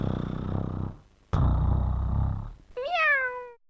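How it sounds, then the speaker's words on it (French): A cartoon cat being petted at home, with a low rumbling purr in two long stretches, followed by a single clear, close meow. "À la maison, le chat aime se faire caresser."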